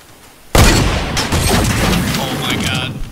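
Sniper gunfire in a video game: a sudden loud crack followed by a sustained rumbling burst of shots and echoing booms that fill the rest of the moment.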